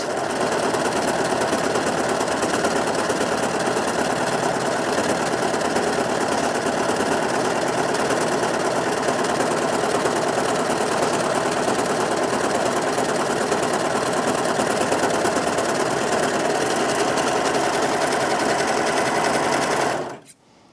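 Brother 2104D overlocker sews a seam with a steady, loud, fast mechanical whir and stitching buzz running continuously for about twenty seconds before stopping abruptly at the end.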